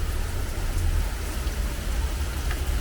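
Heavy rain pours down on a street in Malta, a dense, loud, unbroken hiss and patter of drops hitting hard surfaces nearby.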